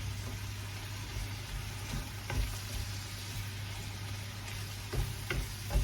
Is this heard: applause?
no